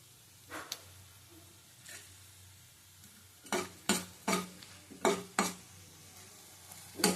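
Quick crackling bursts of radhuni seeds (about half a teaspoon) popping in hot oil, a few scattered sputters at first, then a cluster of sharper pops close by.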